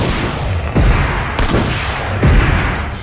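Artillery strike explosions in a video game, three heavy booms spaced about three-quarters of a second apart over a constant loud rumble, each with a deep low thud.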